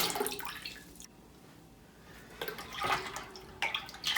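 Pork broth poured into a pot for pressure canning, soft splashing liquid in short pours with quiet gaps between them, close and fairly faint.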